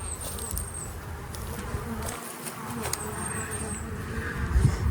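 Honey bees, including a large male drone, buzz continuously around an open hive, a dense close hum with individual insects droning past, while a person talks over it.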